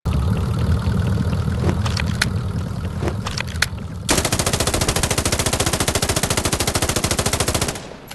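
Automatic gunfire rattles in a battle royale video game, first scattered shots over a rumbling vehicle engine, then a long rapid burst of evenly spaced loud shots lasting several seconds before stopping abruptly.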